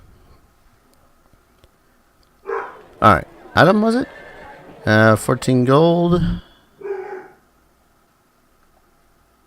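Dogs bark in the game Dark Angel: Vampire Apocalypse, with a cluster of loud, harsh barks and yelps over a few seconds, then a fainter call trailing off. A voice speaks briefly.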